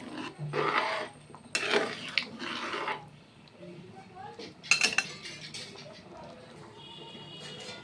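Metal pot lid set down on a cooking pot on the stove, clanking loudly against the rim with a few clinks and scrapes of utensils around it, close and distinct.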